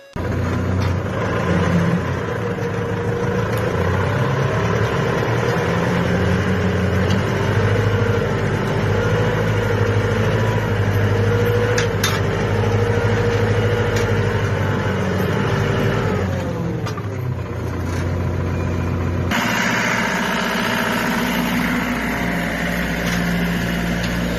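A tractor pulls a two-body plough through heavy soil, its engine giving a continuous loud drone throughout, with a slight change in pitch and load near the end.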